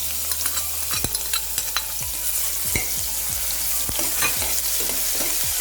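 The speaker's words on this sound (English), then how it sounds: "When oil gets heated, add grated garlic cloves." Grated garlic frying in hot oil, a close, continuous hiss and crackle with scattered sharp pops and a few knocks of a utensil against the pan, no speech.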